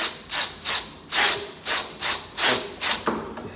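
Screws being driven by hand to fix the inner plate of a Yamamotto YA 50W surface-mounted door lock, heard as a steady series of rhythmic scraping turns, close and fairly loud, with no talking.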